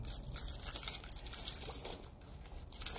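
Keys jangle with light, scattered metallic clinks as they are tucked away, close and faint, in an otherwise quiet room.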